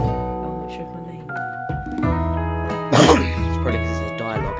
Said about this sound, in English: Sorry that I'm coughing, by the way, I've got really sore throats